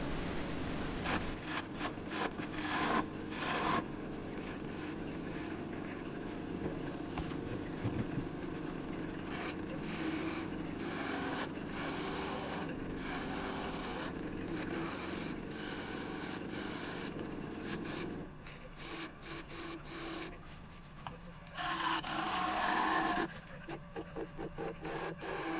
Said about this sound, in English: I'm just practicing my screw chisel technique here, trying to get a concave surface and a convex surface. I ended up finishing off with the